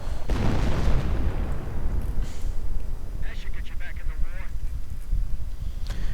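Artillery bombardment in the Panzer Command game: a few heavy booming blasts rumble through the low end while a commentator talks over them.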